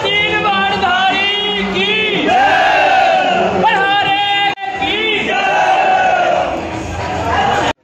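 A dense crowd of many voices shouting and chanting together at a Balaji temple, loud and close, with a brief drop in the middle before the roar resumes.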